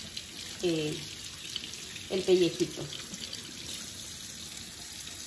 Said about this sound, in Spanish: Agua fría, y sobre el agua voy dejando que se le caiga